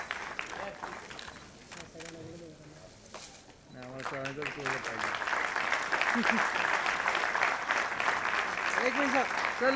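Audience applause at a national Sanskrit song competition, starting softer under a voice and swelling into a fuller, steady clapping crowd while a person speaks over it.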